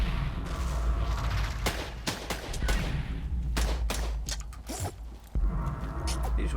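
Rapid gunfire in a wild western horror shooter game, a dense burst of sharp repeated shots over a steady low rumble, with a few louder bangs mixed in.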